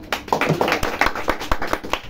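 Students clap at a teacher's farewell, a short, close round of evenly paced hand claps that keeps a steady rhythm throughout.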